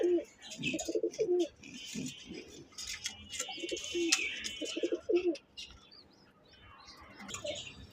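Budapest pigeons cooing up close in repeated throaty phrases, with chirps and light rustling from other birds behind them and no talk.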